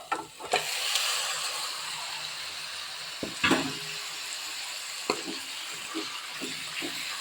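Chicken is stirred and fried in a pan with tomato and garlic for biryani, giving a steady hot sizzle. A spatula scrapes and taps the pan now and then, and no one speaks.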